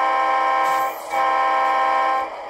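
Horn of an Athearn Reading and Northern model locomotive, two sustained blasts with a brief break between, sounding loud over a low running-engine hum.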